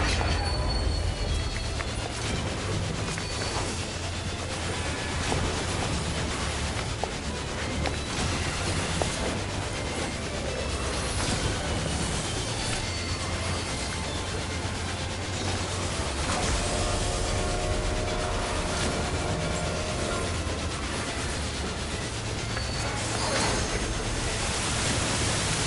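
Doom Train, the ghostly phantom locomotive in Final Fantasy XIV, rumbles steadily with a dense roar and rattling rail clatter, with faint squeals layered through a loud, continuous wash and no talking.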